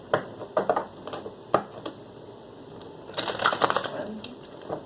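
Quiet papery riffles and soft snaps of tarot cards being shuffled, in short bursts with a longer flurry near the end, close by in a calm room.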